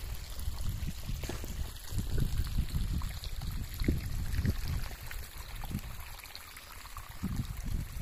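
Irrigation water pours steadily from a wide cloth pipe onto a garlic field, a continuous rushing, gurgling flow heard close up with no voices.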